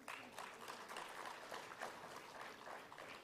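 An audience at a pensions conference claps for a panel, a dense even patter of applause steady throughout, heard at a low, somewhat distant level.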